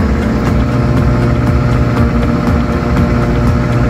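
A repaired microwave oven running after its mica plates were replaced: a loud, steady mechanical hum and drone with a faint regular ticking pulse, constant throughout with no talk.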